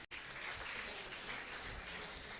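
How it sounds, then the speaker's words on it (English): Faint, steady audience applause fills a campus newspaper relaunch event honouring media houses, a soft continuous wash of clapping heard at a distance. "a round of applause for them"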